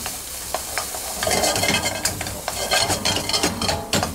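Chopped ingredients for cod bhuna fry with salt in a hot pan, a close, loud sizzle broken by repeated stirring scrapes and clinks, with no talking.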